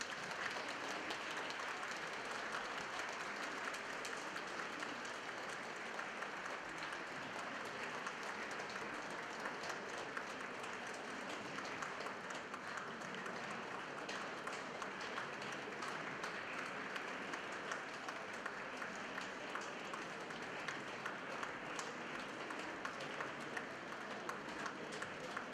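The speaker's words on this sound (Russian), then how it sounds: "Приветствуем, приветствуем аплодисментами." Sustained, even applause from a concert hall audience greets an academic women's amateur choir, dense crowd clapping holding at a constant level for the whole stretch with no talk over it.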